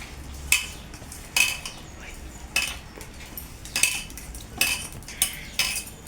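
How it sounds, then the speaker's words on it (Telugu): A utensil knocks against a bowl while spices are mixed into chicken pieces for a chicken masala curry. Six or seven distinct clinks come at a roughly even pace, close up, over a quiet background. "ఇప్పుడు ఇదంతా శుభ్రంగా ముక్కలకు పట్టేలాగా కలుపుకోవాలి."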